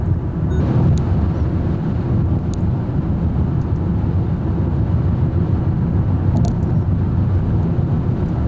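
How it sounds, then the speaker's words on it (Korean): A Hyundai Sonata DN8 driven fast through a corner, heard from the cabin as a steady low engine and road drone, loud and continuous, with a few faint clicks. "여기 지금 조금 빠르게 제가 코너를 돌고 있는데 언더스티어가 맞아요"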